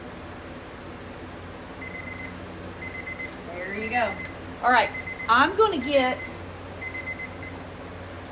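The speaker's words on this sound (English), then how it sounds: "my timer's about to go off" Kitchen timer beeping in repeated short electronic bursts, evenly spaced, moderately loud, while a person talks over it during home apple butter canning.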